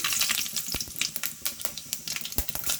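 Mustard seeds crackle in hot oil as they fry, with sharp scattered pops over a steady sizzle, loud and close, and no voices.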